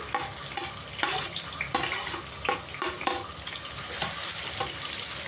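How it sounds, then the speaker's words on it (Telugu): Sliced onions and green chili sizzle in hot oil, a continuous close crackle punctuated by regular scraping stirs against the pan, with no voices. "ఆయిల్ వేడైంది, ఉల్లిగడ్డ వేసేసుకున్నాం."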